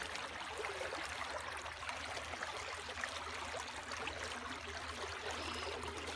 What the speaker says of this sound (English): So the water's coming down.